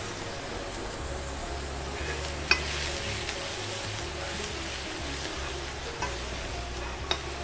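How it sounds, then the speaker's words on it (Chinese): Chopped vegetarian ingredients sizzle steadily in a frying pan while being stirred and seasoned with salt and black pepper. A constant close hiss runs throughout, broken by a few light scrapes and taps. "煎到佢有香味出咗嚟咧"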